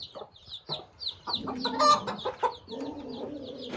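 A mother hen clucks repeatedly in short, uneven bursts, close by, with other soft chicken noises and faint peeping of chicks in the background.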